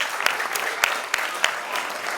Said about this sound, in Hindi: हम गार्जियंस और सभी बच्चे एक साथ तालियां बजाएं